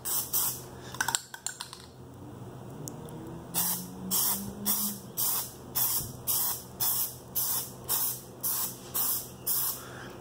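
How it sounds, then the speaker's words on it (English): A spray can lays a Plasti Dip coat onto a Jeep Grand Cherokee emblem with a rattle first, then about a dozen short, evenly spaced hissing bursts, loud and close with no talking. "make sure your spray angle is not the same every time"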